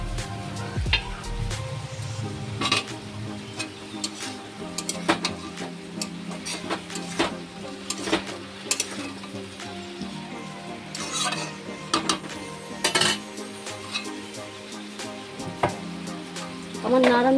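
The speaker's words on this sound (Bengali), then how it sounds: "এটা আমি আবার নাড়বো।" A spiced mixture of prawns and banana flower, with turmeric and chilli powder, is stirred in a sizzling pan, giving repeated sharp scrapes and knocks of the spoon over a steady frying hiss, with no speech.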